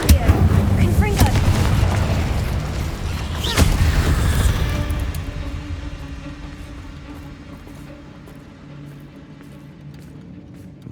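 Spell explosions from the Hogwarts Legacy video game burst loudly in quick succession with booming impacts and crackling fire, then fade to a quieter rumbling tail.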